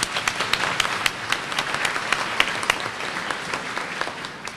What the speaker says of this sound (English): Please give a warm round of applause for Michaela Jones.